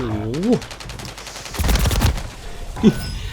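Enemy gunfire from above in Call of Duty: Warzone, a rapid automatic burst around the middle, loud and close, with a voice exclaiming before and after.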